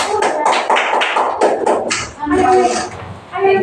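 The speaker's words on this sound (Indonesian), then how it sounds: "Tepuk tangan." Classmates give a short round of hand clapping in a classroom during a microteaching lesson, with talk mixed in over the scattered claps before the applause fades and voices carry on.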